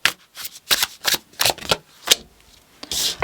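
Tarot cards shuffled up close in quick, crisp riffling bursts that repeat several times with brief pauses between them.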